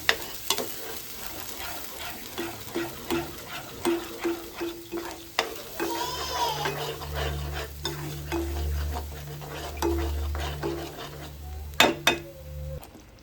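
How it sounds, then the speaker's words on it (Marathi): Stirring masala paste in a pan over a sizzling base, with a spoon scraping and clinking against metal in a steady, repeated rhythm; no talking. "वाटण जे आहे व्यवस्थित मिक्स करून घेऊया."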